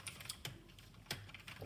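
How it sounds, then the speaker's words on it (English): A Razer computer keyboard on a budget gaming desk setup gives a few faint, sparse key clicks, with several sharper taps standing out over a low background hiss and no voices. "Today I'm gonna be using this keyboard."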